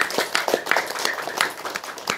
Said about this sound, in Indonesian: Tepuk tangan untuk mesin